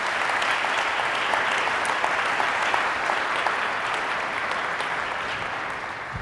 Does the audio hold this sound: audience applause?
yes